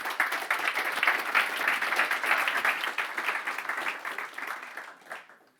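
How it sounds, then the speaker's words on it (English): An audience gives a full round of applause at a tech conference talk, dense steady clapping that fades out near the end. "give it all to Maria with a nice round of applause"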